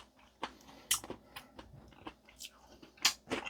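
Close, irregular crunching bites and chewing of fried chicken and pickled radish, with sharp crisp snaps scattered between softer mouth sounds in a quiet room.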